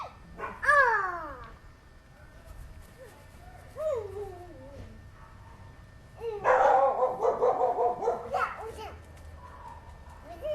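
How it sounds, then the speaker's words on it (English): A dog barks in short bursts among children's chatter and playful voices, with a louder cluster of yips and barks in the latter half. "That's our doggy."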